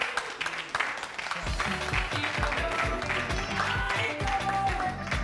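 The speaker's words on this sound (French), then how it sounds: "Merci de l'applaudir." Studio audience on a Burkinabe television programme applauding lighting technician Salomon Ouedraogo: a steady wash of clapping that continues for several seconds, with a rhythmic musical beat underneath and a faint tone above.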